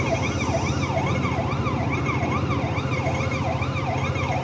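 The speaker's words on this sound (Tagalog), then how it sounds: "Ay, nagpaparid yung mga ambulansya," Loud sirens from a parade of ambulances wail in a steady rising-and-falling pattern above a low rumbling engine and street noise.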